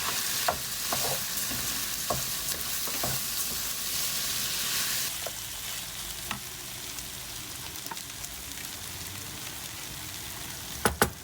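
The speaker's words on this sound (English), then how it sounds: "And then I'm going to add the rice. Just mix that with the veggies." Rice and softened vegetables are stirred and fried in a pan aboard a narrowboat, a constant sizzle broken by repeated sharp scrapes and clicks of the utensil, with no voices.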